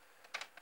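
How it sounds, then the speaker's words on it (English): A few soft keystrokes on a Commodore 64 keyboard while entering code, three or four quick clicks, close but quiet, with no voices. "just fumbling with the keyboard here"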